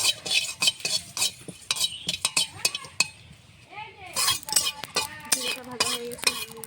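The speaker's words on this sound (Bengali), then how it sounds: "শুকনো খোলায় কিছুটা জিরে ভেজে নেব।" Cumin seeds dry roasting in a pan with a utensil stirring them: a close run of sharp clinks and scrapes against the metal, with some faint voice-like sound in between.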